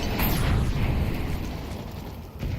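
Incendiary fire grenade in Counter-Strike, heard as a loud, dense roaring burst that quickly settles into a sustained crackling burn, close up with no talking.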